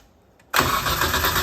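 A drift car's engine is started at a drift event. After half a second of near silence it suddenly catches into a loud, steady running roar.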